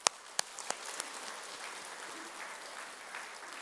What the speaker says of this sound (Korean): 오늘 계시니까 박수 한번 해요.